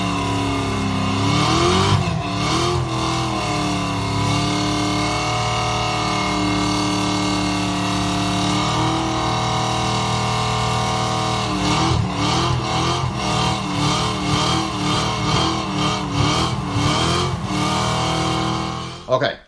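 A car doing a tire burnout, its engine revving hard and holding high, with rising and falling pitch sweeps and a rough, continuous roar throughout, loud and close.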